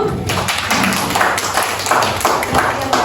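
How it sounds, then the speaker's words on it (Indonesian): A school audience at a senior high school in Solok Selatan claps for a student named Putri, with uneven, fairly close hand claps and some murmuring voices underneath. "berikan tepuk tangannya untuk Putri"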